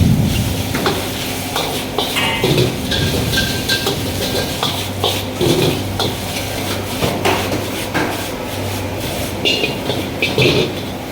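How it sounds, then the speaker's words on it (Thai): Noodles stir-fried dry in a pan with little oil for a rad na dish, with rapid metallic scraping and clanking of a utensil against the pan and a steady background hum, loud and close. "เพื่อนๆพยายามผัดให้แห้งที่สุดเลยนะครับ"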